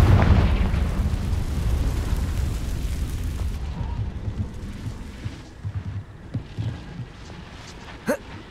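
A Confringo blasting spell explodes in Hogwarts Legacy, a loud rumbling boom that fades into a long decaying roar, followed by smaller scattered pops and one sharp crack near the end.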